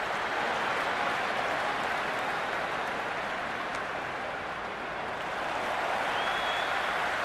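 Crowd applause in a cricket video game match, a broad, steady wash of clapping that fills the whole stretch with a brief dip near the end before swelling again.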